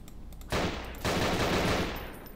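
Bursts of rapid gunfire in the Half-Life 2 mod Hellsound Dreams, a short volley and then a longer sustained stream of shots that fades slightly at the end, loud and close with no talking.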